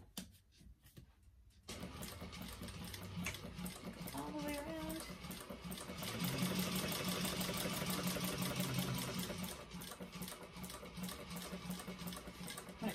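Sewing machine top stitching a bag at a long stitch length, a steady quiet hum that starts after a short pause and continues with a faint ticking rhythm.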